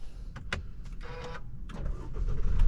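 An Isuzu D-Max X-Series 1.9 diesel pickup is started by push button: a few short mechanical clicks and whirs, then the engine catches and its low rumble swells toward the end. No one speaks.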